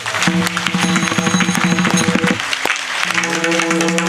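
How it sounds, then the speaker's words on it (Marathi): An audience at a kirtan for Gajanan Maharaj's Pragat Din claps loudly and continuously, with music and harmonium-like tones sustained underneath. "एकदा टाळी वाजा जोरात."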